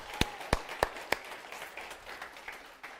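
A church congregation briefly claps and cheers, a few sharp distinct claps up front then softer scattered applause trailing off, fairly faint and distant.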